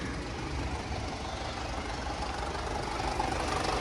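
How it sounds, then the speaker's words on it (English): A Volkswagen Jetta's engine idles steadily, with a fast, light ticking running through the even mechanical drone, somewhat diesel-like but not misfiring. "Sounds a little bit like a diesel, but it's not misfiring."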